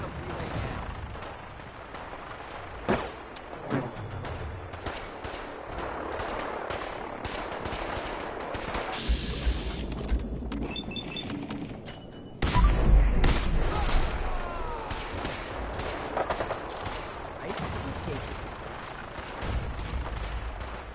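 A shootout in the Fallout 4 video game brings sustained bursts of gunfire, rapid automatic volleys and single sharp shots, loud and continuous over layered combat noise, with occasional voices.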